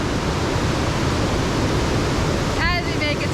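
Rain pours steadily at Nauyaca waterfall in Costa Rica during the rainy season, a dense, unbroken hiss that fills the whole stretch, with a brief voice rising near the end.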